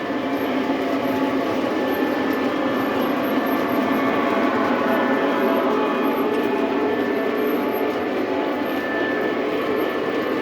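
Halloween-themed S2 model train passing on a layout, a steady rolling rumble and hum, even and sustained for about ten seconds with no talking.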